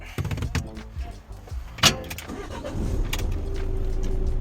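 A used motorcycle's engine cranks and catches after some clunks and a sharp click, then settles into a steady idle rumble.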